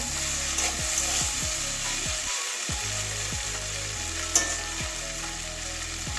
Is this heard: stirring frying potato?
yes